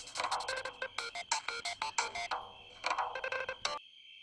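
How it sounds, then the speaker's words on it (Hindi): A mobile phone ringtone plays loud and close in a repeating pattern of short, bright tonal bursts for about four seconds, then cuts off abruptly, with no talk over it. "देखना किसका फोन है"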